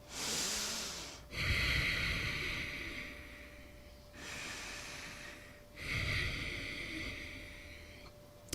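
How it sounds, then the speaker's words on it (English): Deep Ujjayi yoga breathing, two long cycles of slow, hissing inhales and exhales through a constricted throat, close and loud with a raspy, Darth Vader-like rush and no talk. "do something called Ujjayi breath, which sounds like this."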